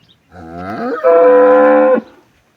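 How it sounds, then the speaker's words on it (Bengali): A dairy cow of an improved milking breed gives one loud, close moo on a Bangladeshi village farm. The call rises, holds strongly for about a second and then cuts off, with no other sound around it. "উন্নত জাতের দুধের গাভীগুলো সংগ্রহ করে থাকি"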